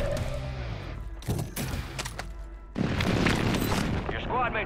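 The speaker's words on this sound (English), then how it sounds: "Friendly airstrike in the AO." A friendly airstrike in Call of Duty sets off heavy booming explosions, deep rumbling blasts that swell and roll on, while radio voices talk under and between them.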